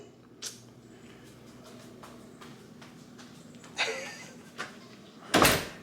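A door behind the person is moved, giving a few soft knocks and rustles, then a louder thud and a final sharp bang at the end over a quiet indoor hum.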